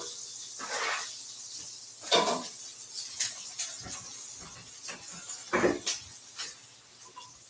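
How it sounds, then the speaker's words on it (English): Vegetables sautéing in a breakfast pan just after bacon was cooked, a steady close sizzle and hiss rising in surges, with a few soft stirring and pan clinks and no talking. "I will throw the veggies in and saute them for a few minutes."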